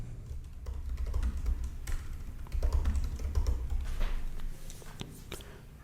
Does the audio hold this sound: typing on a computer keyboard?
yes